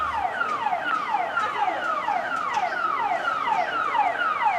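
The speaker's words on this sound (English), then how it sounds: "At exactly 6 p.m. a siren blares." A loud, wailing town siren sounding at 6 p.m. sweeps down in pitch over and over in a fast repeating cycle, blaring steadily without pause.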